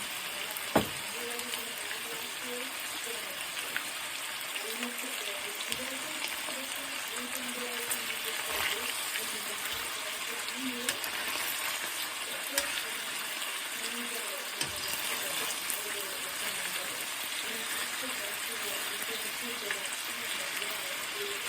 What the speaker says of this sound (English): So now I'm stirring my noodles to keep them from boiling over.